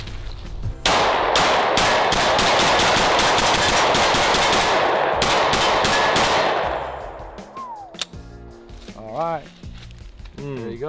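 Rapid pistol gunfire from a Sig Sauer or Canik rings out in a fast string of loud close shots, then stops, followed by a lone shot and people talking.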